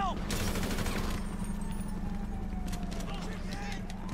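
Gunfire in Grand Theft Auto V, a burst of rapid shots up front that thins into scattered pops, set against steady game engine hum and clattering movement, with a voice speaking over part of it.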